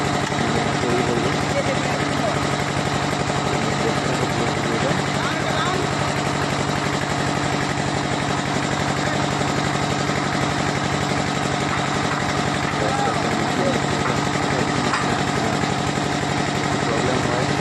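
A soil testing boring machine with its gear box running, a loud, dense, continuous engine drone that holds steady throughout, with a voice talking over it.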